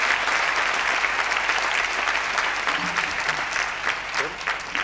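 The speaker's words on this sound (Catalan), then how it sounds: "Un aplaudiment." A concert audience applauds, a dense patter of clapping hands sustained throughout, with a voice speaking over it partway through.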